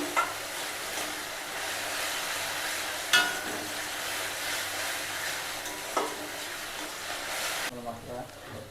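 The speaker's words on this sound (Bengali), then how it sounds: "মশলাটা ভালো করে কষিয়ে নিতে হবে" A spice paste of onion, green chili, garlic and ginger, made for a spicy red crab curry, is stir-fried in a pan, giving a steady hiss and sizzle with occasional louder stirring scrapes until it cuts off near the end.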